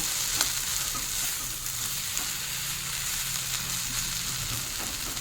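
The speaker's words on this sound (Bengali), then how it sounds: "কত সুন্দর তেলটাকে সমস্ত তরকারির সঙ্গে মিশিয়ে নেব।" Kulfi greens and prawn curry are stirred in hot oil, a steady, close sizzle with light scraping from the spoon and no voices.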